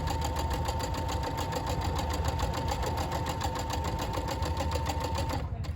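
A sewing machine stitches at steady speed with tension set to 2 and long stitches, a continuous close mechanical whir and rapid needle clatter that stops abruptly at the end, with no talking.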